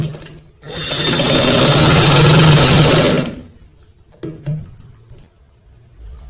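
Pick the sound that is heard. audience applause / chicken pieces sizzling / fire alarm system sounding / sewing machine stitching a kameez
sewing machine stitching a kameez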